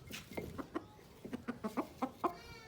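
Desi chickens cluck in quick, irregular bursts close by, with soft pecking sounds and no talk, as the birds pant in the heat.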